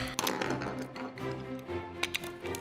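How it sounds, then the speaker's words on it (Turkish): Quick, uneven tapping and clicking of a knife chopping vegetables on a board in a cooking video game, with a faint musical tone humming underneath. "Biraz sebze de doğrayalım."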